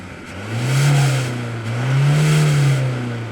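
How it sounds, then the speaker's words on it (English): A Toyota HiLux 48V mild-hybrid four-cylinder diesel engine revs up twice, its low exhaust note rising and falling in two steady swells, close and loud with no talk. "one of the better sounding 4-cylinder diesels I've heard. Take a listen to the new hybrid Toyota"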